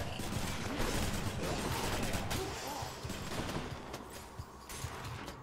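Gunfire from a three-round burst weapon in the video game Hades, a dense run of rapid shots and impacts mixed with game effects, loud and sustained.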